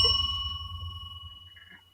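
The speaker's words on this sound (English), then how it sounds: "Let's give him the bell." A celebratory bell is struck once, giving a clear bright ding that rings on steadily and slowly fades, heard alone over a low background hum.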